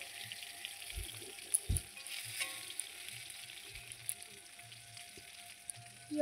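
Pointed gourd (potol) frying in oil, a steady soft sizzle crackling across the whole stretch with occasional low thumps and knocks from the pan, fairly quiet and with no talking.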